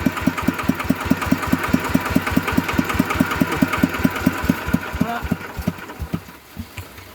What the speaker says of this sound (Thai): เครื่องนิ่มเหรอวะ เฮ้ยเครื่องนิ่มว่ะ